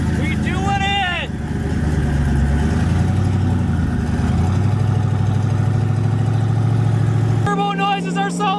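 Steady deep rumbling idle of a twin-turbo Ford Mustang engine, loud and close, with an overlaid turbo whine and some talking over it before a sudden shift near the end.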